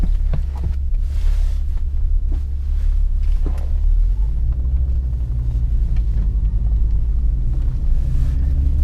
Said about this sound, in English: It starts up like a normal car